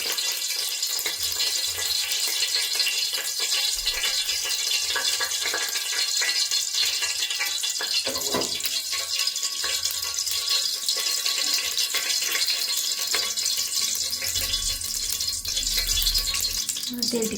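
Chicken curry pieces frying in heated oil in a pan, a steady close sizzle with rattling and stirring throughout, continuous and fairly loud.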